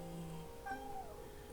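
An indoor cat gives a brief meow, quiet and close, with a faint rising-falling tone in a hushed room.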